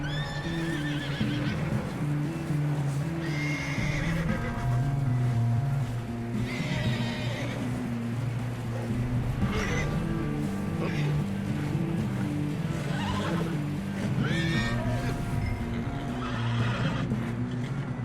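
Horse neighing in the video game Red Dead Redemption II, several whinnies rising over a constant low engine-like rumble and game ambience, with faint talking in places.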